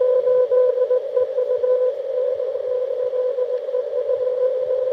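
Morse code sent over ham radio during an outdoor park activation, a steady sidetone tone keyed in short beeps, close and clear with a faint radio hiss and static beneath.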